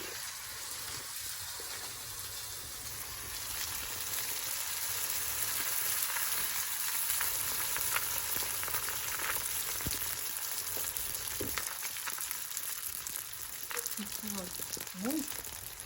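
Thin brick pastry sheets frying in a pan on a gas stove, a continuous soft hiss and sizzle of oil, with a few brief clicks and scrapes near the end, steady and moderately quiet.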